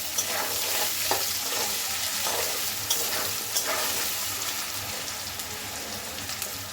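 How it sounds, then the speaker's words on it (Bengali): Potatoes fry in a pan with salt and turmeric, giving a steady broadband sizzle. Several soft scrapes from stirring break through the sizzle, and no one speaks. "এবার আলুগুলোকে আমি একটু নুন হলুদ দিয়ে একটু ভেজে নেব।"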